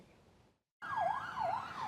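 An ambulance siren wails along a London street, its rising and falling tone loud and steady across the second half after a brief gap of silence, over low traffic rumble.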